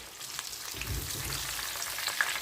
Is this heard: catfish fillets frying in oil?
yes